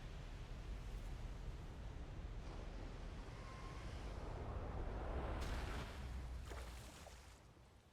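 A broad, rumbling roar swells and slowly fades from an explosion in the video game Cleansing Flames, with a whooshing wash of noise and no voices.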